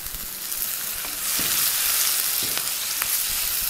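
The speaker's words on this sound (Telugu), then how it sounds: "ఉల్లిపాయ ముక్కలు బాగా ఫ్రై అయిపోయి ఇందులో కట్ చేసి పెట్టుకున్న టమాటా ముక్కలు వేసుకుందాం" Tomato pieces drop into fried onions in a pan for a sorrel-leaf gravy, a continuous hissing sizzle that swells louder partway through, with a few faint knocks of a utensil.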